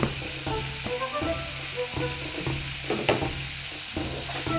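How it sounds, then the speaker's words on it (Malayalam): Curry leaves and crushed onion hit hot oil in a pan and crackle loudly, a dense steady sizzle broken by sharp pops and the scrape of stirring, with no voices. "ഇനി നമുക്കിതിനകത്തോട്ട് ഈ കരിവേപ്പിലയും ഈ ഉള്ളി ചതച്ചതും കൂടെ ഇടാം"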